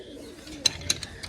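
Low cooing from Sar-Far pigeons drifts under a few quick, bright clicks in a short stretch, close by and moderately loud.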